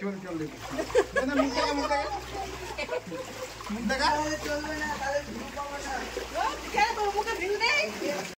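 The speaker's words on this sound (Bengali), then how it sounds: "সব জল ভিঙিয়ে ভিঙিয়ে আমরা এখন বাড়ির দিকে যাচ্ছি।" People wading through rain floodwater on the way home after fishing, with repeated splashing and sloshing steps under near, continuous voices of adults and children talking.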